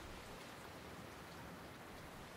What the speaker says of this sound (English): Cool, but not frigid winters deliver life-giving rain.